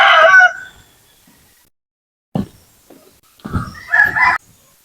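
Pet chickens and chicks at feeding time. Loud rooster-like crowing and clucking come in separate close bursts with quiet gaps between them, and no one speaks.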